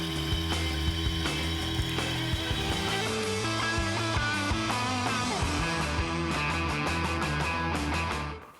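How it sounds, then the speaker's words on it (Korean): An automatic robotic cleaner for artillery gun barrels runs loud and close, with a dense mechanical clatter of ratcheting and gear noise over a steady low hum that goes on throughout, then cuts off at the end. "포구자동 청소기는 포 내경부를 진품처럼 깨끗이 청소할 수 있는 로봇 청소기입니다."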